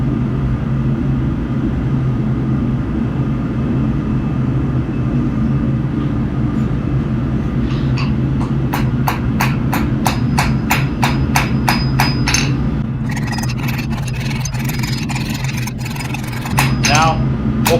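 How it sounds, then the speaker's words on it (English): A loud, steady mechanical roar fills the background, then a rapid, even series of ringing hammer strikes begins partway through and keeps pounding as a Damascus steel knife tang is forged. "this will be the final heat on the tang"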